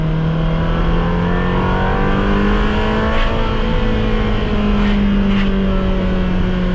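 A Ferrari sports car driving on a wet road, its engine a steady close-up drone with a gently rising pitch as it accelerates. The tone stays continuous and fairly loud throughout, with no voices.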